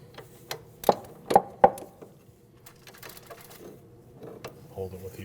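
A wrench working the nut on a lower front sway bar link of a 2012-2016 Honda CR-V, giving three sharp metallic clicks close together early on, then quieter scattered ratcheting and handling noises.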